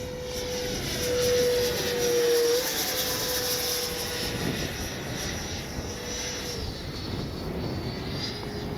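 Freewing 90mm J-10 RC jet making a low gear-down pass at an airfield, its ducted-fan whine rising and then falling as it sweeps by, loud and sustained with a shifting pitch.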